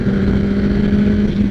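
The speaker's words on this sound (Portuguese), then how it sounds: "Olha as motocas, mano!" Motorcycles on a group ride with a blue bike among them, their engines droning loudly and steadily at close range with a strong low hum and no talk over it.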